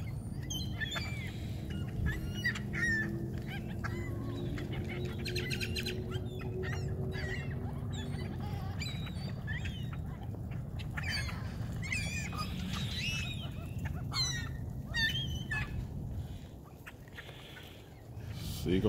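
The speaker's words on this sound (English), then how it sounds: "There comes that seagull and says," Ring-billed gulls call repeatedly while being fed outdoors alongside grackles, with overlapping squawks and honk-like cries at moderate distance beneath people talking.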